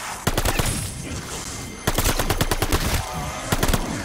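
Rapid automatic gunfire in Call of Duty Vanguard Zombies, loud close bursts of rattling shots in three clusters separated by brief pauses, with no talk over them.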